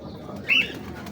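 Ferozpuri pigeons give a single short, soft coo close by against a quiet background hum.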